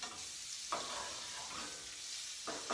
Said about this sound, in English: We want to baste our scallops with the butter so that we get some on all sides